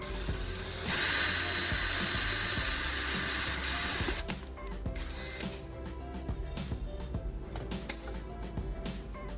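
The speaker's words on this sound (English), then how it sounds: "First, I drill a hole in the center of the bottom of the can." An electric drill boring a hole in the center of an aluminum beer can bottom, a steady whirring buzz for a few seconds followed by rattling, clicking handling noises.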